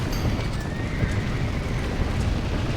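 Horses neighing and hooves clattering in the Red Dead Redemption video game, a whinny over a busy, noisy mix of clip-clopping hoofbeats and rumbling commotion, moderately loud throughout.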